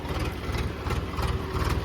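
A tractor engine runs close by, used for hauling a trolley during straw making on a farm, with a deep steady low rumble and rhythmic chugging throughout.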